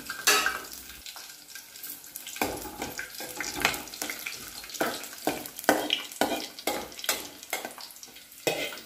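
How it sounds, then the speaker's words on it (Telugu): Oil sizzles and crackles in a pan as coriander seeds and garlic fry, while a spoon stirs and scrapes repeatedly, close and moderately quiet. "ఆయిల్లోనే ధనియాలను, ఎల్లిపాయలు వేయించుకోవాలి"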